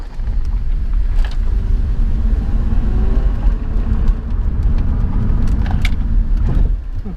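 A right-hand-drive Japanese car rolls along with a constant low road rumble and engine drone heard from inside the cabin, with a few brief knocks near the end.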